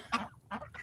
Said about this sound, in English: there's the duck, but there's the Muscovy duck